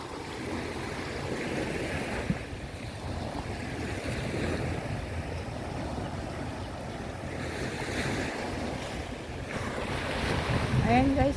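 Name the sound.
sea waves at dawn on the seaside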